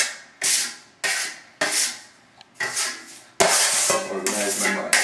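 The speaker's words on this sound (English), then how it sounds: "I clean my trowel a little better than that." Repeated scraping strokes of a metal plastering trowel being cleaned, about six firm rasping swipes in an uneven rhythm, close and fairly loud with no talking.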